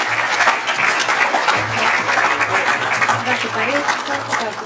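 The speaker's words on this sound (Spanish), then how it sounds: "Un aplauso, por favor." An audience gives steady, loud applause for a speaking ambassador at a talk on immigration, a dense clapping that continues throughout with scattered voices and murmurs in the crowd.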